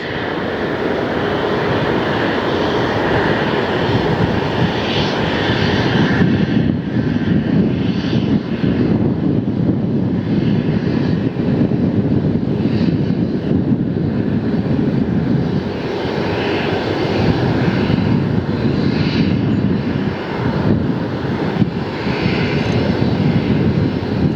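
A jet airliner inbound from Seoul, South Korea to LAX roars overhead, a broad continuous rumble and whine swelling and holding at steady loudness for over twenty seconds, heard alone without talk.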